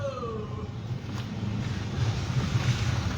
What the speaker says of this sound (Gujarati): જોરદાર પવન ઉડ્યો પવન આવ્યો તેની સાથે ડમરી ઉડી અને પછી જે છે વરસાદ પડ્યો